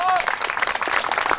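Audience applause at an outdoor summer party in Ludwigshafen: dense, steady clapping from a crowd, loud and close, filling the whole brief moment.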